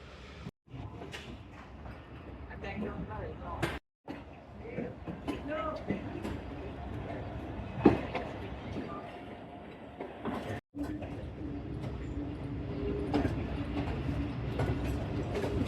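A train pulls out of Shahdara Bagh junction with a continuous rumbling, clattering roll and metallic rattles over the tracks, heard from on board, with a voice speaking over it at times.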